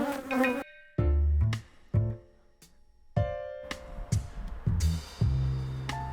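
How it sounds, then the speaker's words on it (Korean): Honeybees buzzing around a beehive in an apiary, several short, close buzzing passes with gaps of quiet between them. "벌통 주변에 겨다니거나 마비된 벌이 있기에 그걸 실험실 검사하기 위해서 채취했습니다"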